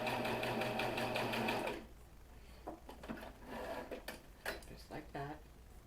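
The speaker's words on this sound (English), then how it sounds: "And then I'm just going to sew that 1/4 inch." A sewing machine runs a steady, fast stitching burst sewing a 1/4 inch seam on a Dresden Plate quilt block, loud and continuous for under two seconds, then stops, leaving quiet handling clicks and rustles of fabric.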